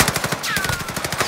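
Sustained full-auto fire from an Armaguerra 43 SMG in a video game, a fast, unbroken string of loud nearby shots with a brief whooshing effect threaded through the middle.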